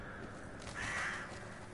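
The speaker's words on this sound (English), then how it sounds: "Hello, crows." A crow caws once, faint and drawn out, over a steady hiss of ambient noise in the video game Demon's Souls.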